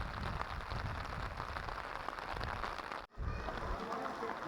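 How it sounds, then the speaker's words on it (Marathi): Heavy rain pours at Sajjangad fort near Satara, a dense, steady hiss close by that runs continuously, broken only by a brief dip near the end. "भरपूर पाऊस पडत आहे."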